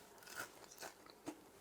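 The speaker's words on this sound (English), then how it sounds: "I'm going to bite into one, just hopefully it's going to crunch." Someone bites into crispy, golden deep-fried shallots, producing a few faint, sharp crunches close to the mic against quiet background.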